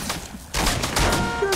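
Gunfire in the video game Fortnite, a dense rattle of rapid shots close and loud, bursting in after a brief quieter stretch and continuing steadily to the end.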